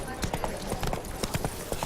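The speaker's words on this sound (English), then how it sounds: "Whoa there, Roach" Horse hooves clop at a steady trot in the video game The Witcher 3, a quick rhythmic run of soft, close hoofbeats over about two seconds, heard under speech.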